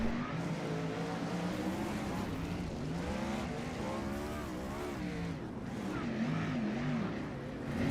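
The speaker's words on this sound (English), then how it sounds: "he probably earns the right to go and do some victory donuts" A 360 wingless sprint car, number 44, does victory donuts at Limaland, its engine revving up and down in wavering surges with tire noise, heard from a distance over a steady crowd-and-track background.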